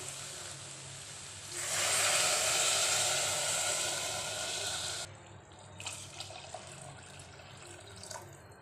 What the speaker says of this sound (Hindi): अब इसके अंदर हमें पानी डाल देना है।